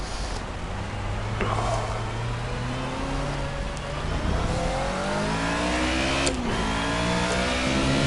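A Mercedes race car engine in the Project Cars game, revving and shifting with rising and falling pitch sweeps, steady and close, with a sharp gear-change blip near the end.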